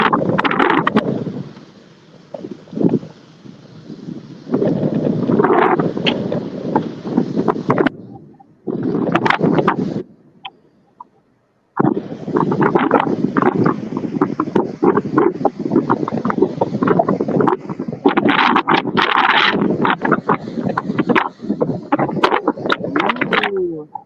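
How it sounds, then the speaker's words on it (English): Strong, gusty winds from severe Category 3 Tropical Cyclone Kirrily in North Queensland roar and buffet the microphone in loud, uneven surges, with a brief lull partway through before the blasts return. "definitely still some very gusty winds"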